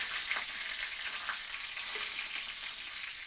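Mustard seeds and dried red chillies fry in oil in a kadai for tempering, giving a soft, steady, close sizzle with light crackles throughout.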